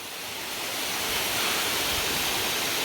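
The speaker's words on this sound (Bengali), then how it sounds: "পানি এই যে এখান দিয়ে পড়ার পর এই জায়গা দিয়ে পানিটা নিচের দিকে যাচ্ছে।" Nokata waterfall at Bilaichhari in Rangamati pours down during a hike, a loud, steady, close rush of falling water that swells slightly, with no voices over it.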